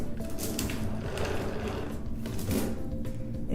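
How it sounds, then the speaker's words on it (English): Chain pulled through a chain hoist in neutral, a continuous rapid metallic rattling and clicking close by, steady and even for a few seconds. "check the free chain function by pulling the chain through the hoist in both"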